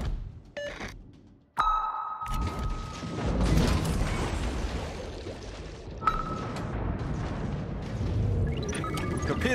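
A torpedo strike explodes against a destroyer in World of Warships, a sudden loud boom followed by a long rumbling roar of water and debris, with sonar-like pings and game chimes over it and a voice talking under it.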